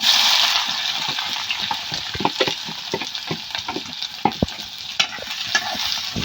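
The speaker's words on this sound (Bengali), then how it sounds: "শুকনো মরিচটা ভাজা ভাজা হইলে পরে আমি রসুন কাঁচামরিচ পেঁয়াজ তেলে ভাজা ভাজা করি" Dried chilies, garlic, green chilies and onion frying in oil in a village kitchen, giving a steady loud sizzle broken by frequent scraping stirs.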